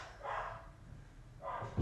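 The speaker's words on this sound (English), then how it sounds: "Don't mind if you hear my dog barking downstairs." A dog barks twice downstairs, muffled and distant, two short separated bursts in a quiet room.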